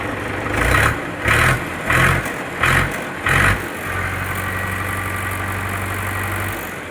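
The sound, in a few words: Mahindra B 475 tractor engine running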